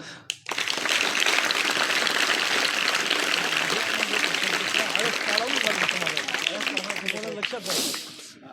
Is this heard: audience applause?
yes